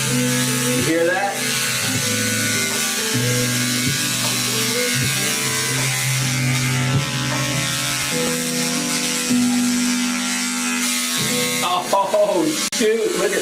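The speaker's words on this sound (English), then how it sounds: "These are just some clippers that I use to usually trim my beard" Electric beard clippers shave a head, making a steady buzzing drone that runs through the whole stretch beneath loud lo-fi hip-hop beats.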